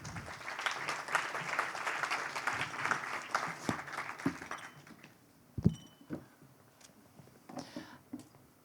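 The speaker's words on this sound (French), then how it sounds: "On peut aussi les applaudir." Audience applause welcoming invited guests at a talk on urban agriculture, dense clapping that fades out after about five seconds, leaving scattered knocks and faint room sounds.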